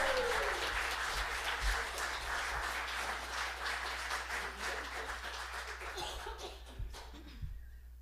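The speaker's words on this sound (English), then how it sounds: "Please give me a round of applause to welcome Laura." A congregation claps a warm round of applause welcoming Reverend Laura to speak at a morning service, sustained crowd clapping with a few chuckles that thins and fades out toward the end.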